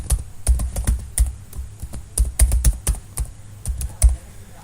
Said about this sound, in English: so without talking much, we will type a mail ID